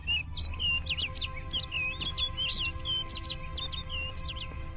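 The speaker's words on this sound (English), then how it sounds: "Looks like the bird's leading me somewhere." Bright, rapid bird chirps repeat in short bursts over a low steady ambient hum in The Witcher 3: Blood and Wine, moderately close and continuous throughout.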